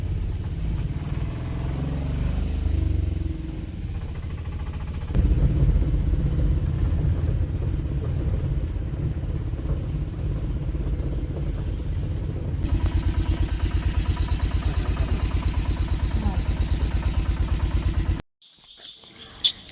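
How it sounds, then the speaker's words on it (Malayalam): A vehicle carrying passengers to a house, its engine droning as a steady low rumble from inside the cab with shifts in tone as it drives, then cutting off abruptly near the end. "അങ്ങനെ ഞങ്ങൾ വണ്ടി കയറി ആ വീട്ടിലേക്ക് പോകുന്നതാണ് കേട്ടോ ഈ കാണുന്നത്."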